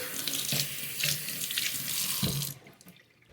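Kitchen tap water runs steadily into a sink during washing, a dense rushing hiss with a few splashy pulses, then cuts off abruptly near the end, leaving quiet room tone.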